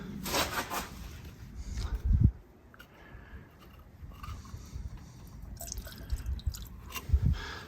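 Gasoline splashed from a small can into the carburetor of a Crosley car for its first start of spring, with faint close drips and liquid splashes over low background noise.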